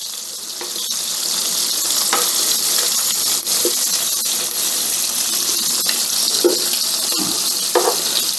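Shrimp fry in a hot pan for garlic and shallot shrimp, giving a steady close sizzle and crackle that holds for several seconds with scattered light pops and no talking.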